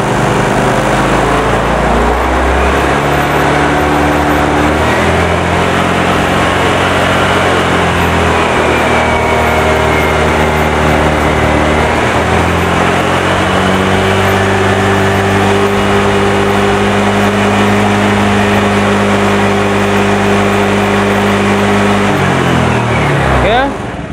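Motorcycle engine revved during a throttle test while checking charging voltage at around 4000 rpm, a loud continuous drone that rises and holds steady for the whole stretch before dropping off at the end.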